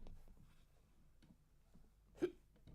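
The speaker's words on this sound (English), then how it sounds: "I've got hiccups too." A single short hiccup from someone commentating a live football watchalong, a sudden sharp gulp near the end of a quiet stretch with soft background noise.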